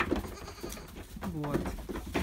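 Young goat kids bleating on a farm, a few short wavering cries close by amid background noise and some voices.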